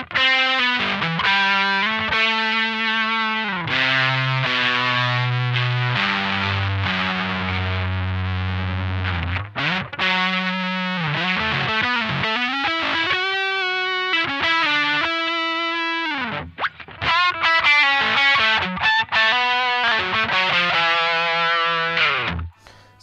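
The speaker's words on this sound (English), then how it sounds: "So there's still a lot of the artificial harmonic kind of pinch sounds and lots of sustain without it being a terribly bitey kind of pedal." Electric guitar played through a Boss high-gain distortion pedal, in a comparison of the MT-2 Metal Zone and HM-2, on the neck pickup. It plays a loud, sustained distorted riff with pinch harmonics and long ringing notes, with no talking.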